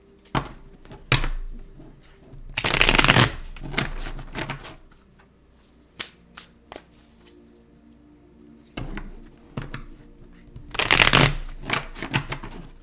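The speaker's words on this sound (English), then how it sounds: "Shuffle another couple of times." Two bursts of tarot card shuffling, each a rapid riffle a second or so long, separated by softer taps and handling of the deck, close up and without talk.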